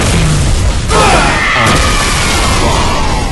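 A bomb detonating in Halo Reach Grifball, a loud booming blast that rolls into a dense roaring rumble, part of a noisy game mix with brief tonal game sounds.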